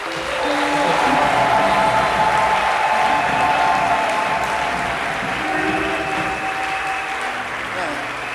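Congregation at a church thanksgiving service applauding and cheering, a dense, steady roar of clapping and voices that fills the whole stretch at close, loud level.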